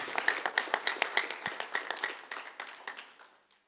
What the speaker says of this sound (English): Can we clap for Sangalo again?